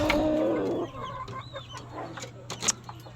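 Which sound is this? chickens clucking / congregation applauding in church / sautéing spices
chickens clucking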